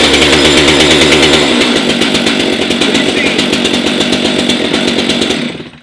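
A STIHL MS 500i chainsaw fires up, then runs at a loud, high, buzzing rev that holds steady for several seconds before cutting off abruptly at the end.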